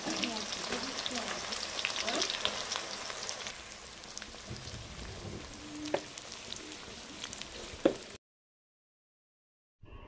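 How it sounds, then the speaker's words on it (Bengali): Whole garam masala and onions fry in mustard oil in a kadai, a continuous close crackling sizzle with scattered pops and utensil clinks, then it cuts to silence near the end. "একটা কড়াইয়ে প্রথম সরিষার তেল পরিমাণ মতো দিয়ে নিয়ে গোটা গরম মশলা দিয়েছি।"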